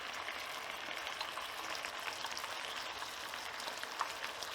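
Sliced peppers, chilies and spring onion frying together in a hot pan, giving a steady, fairly quiet sizzle and crackle with a few small pops and no voices.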